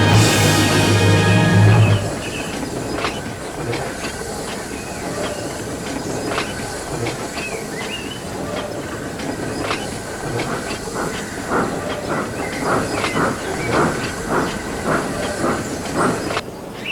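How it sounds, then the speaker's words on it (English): A steam locomotive in the Trainz railway simulator game rolls past, with an engine note at the start and then a steady hiss and rumble. Rhythmic clicks of wheels on rail joints run throughout, fairly close and loud, with no talk. "They cheered as Henry puffed past."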